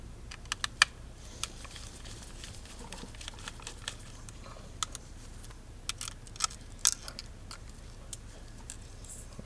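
Small screws come out of the CPU fan inside a MacBook Pro 15, a string of faint, sharp ticks and clicks from a close-up screwdriver, irregularly spaced, over a quiet room hum.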